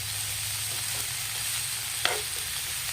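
Ginisang upo being stirred and fried with giniling and bagoong in a pan: a steady close sizzle throughout, with a single sharp scrape of the utensil partway through.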